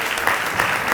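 A gala audience at a schools honors event applauding as someone walks up to speak, a brief continuous burst of crowd clapping.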